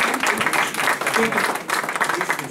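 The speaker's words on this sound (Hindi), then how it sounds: "कृष्ण सनम साहब, आपकी तालियों में पहली मरतबा स्टेज पर तशरीफ ला रहे हैं।" Audience applause at an Urdu mushaira poetry gathering as a poet takes the stage, a room full of people clapping steadily and fairly loudly, with some voices mixed in.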